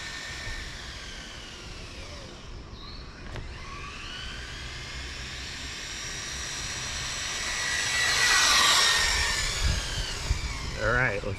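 A Traxxas 4-Tec 3.0 Corvette Stingray RC car with a big pinion gear and 7-cell battery whines at speed, its high electric motor pitch rising and falling as it passes, with faint talk nearby.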